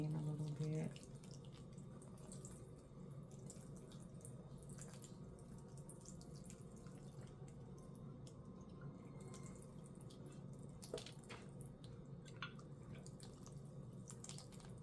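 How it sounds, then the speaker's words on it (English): Water trickling from a watering container onto seedlings started indoors, a soft steady pour with faint drips, quiet and close. "So let me just try to water these in a little bit."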